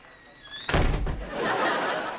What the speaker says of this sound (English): A door opens.